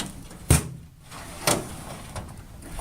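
Drawers of a restored vintage tool chest slide and knock shut, two sharp wooden clunks about a second apart followed by a softer third bump, close by in a quiet room.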